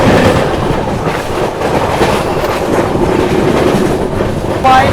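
An Andhra Pradesh SF Express passenger train overtaking at high speed, its loud continuous rush and rumble with clickety-clack wheel rhythm filling the whole stretch close by, a faint squeal at the very end.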